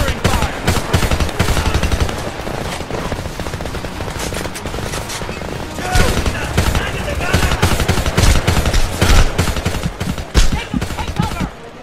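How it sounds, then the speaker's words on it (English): Rapid machine gun fire rattles on in long, dense bursts during a Homefront firefight, loud and close, with shouted voices in the mix. "Machine gun, second floor window."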